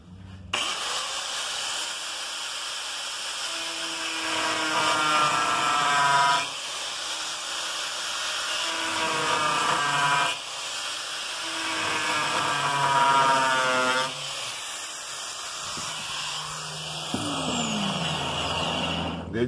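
A power sander works over a fish-shaped wooden cutting board, its steady whine broken by several short gaps and pitch shifts as the tool moves across the wood, close and continuous.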